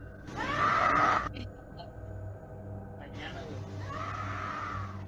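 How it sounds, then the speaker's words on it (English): A woman's scream in a recorded night video: a long loud wail at the start, then a quieter sustained cry fading in again later over a low steady hum. "You can hear a woman scream."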